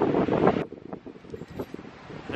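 Strong wind buffets the microphone beside Eklutna Lake, a loud roaring gust that drops away into softer rushing wind and lapping waves, with no voices.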